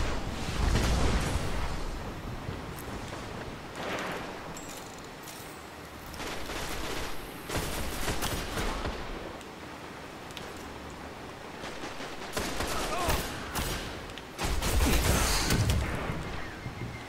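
Gunfire and blasts in a Destiny Crucible PvP match, repeated loud bursts and heavy impacts clustered throughout, dense and close with explosive crashes scattered between volleys.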